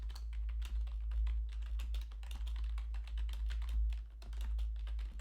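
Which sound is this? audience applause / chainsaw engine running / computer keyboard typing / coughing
computer keyboard typing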